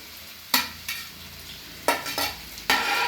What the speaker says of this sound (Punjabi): ਤੇ ਇਹਦੇ ਵਿੱਚ ਹੁਣ ਆਪਾਂ ਪਾ ਦੇਾਂਗੇ ਇਹ ਜਿਹੜੇ ਪਿਆਜ਼ ਕੱਟੇ ਹੋਏ ਆ